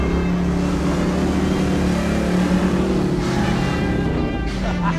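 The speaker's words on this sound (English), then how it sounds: "What I'm gonna do is back up, select a higher gear, get a little bit of run, a little bit of momentum, we'll blow through this thing." A 1955 Willys Wagon engine drones steadily with sustained revving as the truck builds momentum through mud, loud and continuous throughout with a low rumbling tone.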